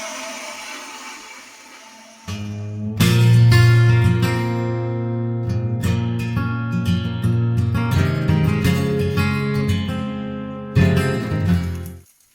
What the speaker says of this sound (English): once everything's in the little blender thing, put it in here and listen to the god-awful sound.